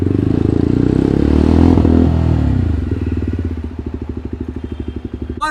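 A motorcycle engine idles in neutral on a road trip from Chandigarh to Delhi, first a loud throaty rumble, then settling into a steady rhythmic putt-putt thumping close by, with no talk.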